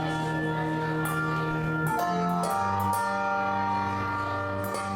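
A handbell choir rings sustained, shimmering tones, with new bells struck every so often, layering bright chords over lingering overtones at a moderate, even level.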